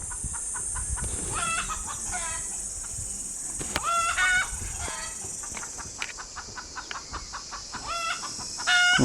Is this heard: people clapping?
no